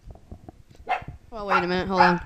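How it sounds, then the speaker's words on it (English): A dog barks at home, short bursts mixed with a person talking, the barking fairly close and moderately loud, overlapping the speech. "And if you heard that dog barking, that was my dog."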